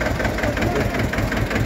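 An old tractor engine running steadily nearby, a loud, dense low chugging idle with knocking beats and rattling vibration throughout.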